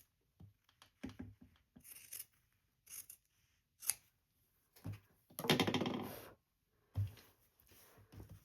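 Scissors snip through a fabric pocket panel while sewing a travel jewelry wallet, a series of close, crisp cuts in irregular bursts with one longer stretch of continuous cutting, quiet room between strokes and no talking.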